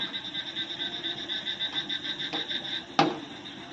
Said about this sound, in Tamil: ஃப்ரெண்ட்ஸ் எவ்வளோ அழகாக தவளைலாம் கற்றுது பாருங்கள்.